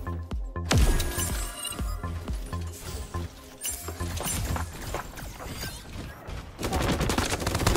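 Dense gunfire and explosive crashes from the Super Mecha Champions battle game, continuous loud bursts and rattling shots with clinking debris, sustained throughout with a heavier barrage near the end.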